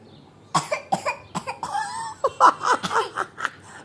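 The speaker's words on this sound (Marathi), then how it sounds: "खोटं बोलल्यावर खोकला आला ना?" A child coughs several times in short bursts, close and loud, breaking into a raspy, laughing fit of coughs.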